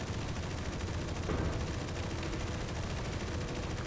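Continuous rapid gunfire from a spaceship battle in the video game Space Engineers, a dense, steady barrage with no pauses, loud and close throughout.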